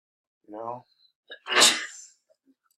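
A single sharp human sneeze in a classroom, preceded by a brief spoken phrase and a short intake of breath.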